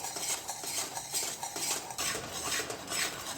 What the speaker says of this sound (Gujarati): આવી રીતે આને કોન્સ્ટન્ટ હલાવતા રહેવાનું જ્યાં સુધી એકદમ કલર એનો ચેન્જ ના થાય